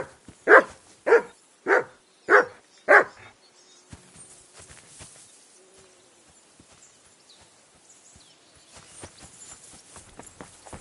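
A dog barks five times in quick, loud succession in the medieval game Kingdom Come Deliverance 2, followed by quiet footsteps and faint ambient rustling.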